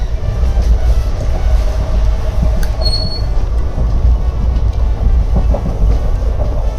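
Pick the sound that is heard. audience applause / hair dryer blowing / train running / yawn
train running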